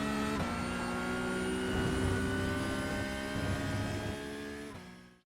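Porsche 992 Cup race car in iRacing at Silverstone, engine held at full power with a steady loud high-revving drone, harmonics shifting slightly as gears change, fading out abruptly at the end.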